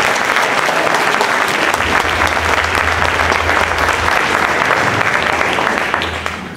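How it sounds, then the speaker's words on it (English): An audience at a school winter orchestra showcase claps warmly for a student conductor's debut, a dense, sustained round of applause that tapers off at the end, with faint murmurs underneath. "Give her a round of applause"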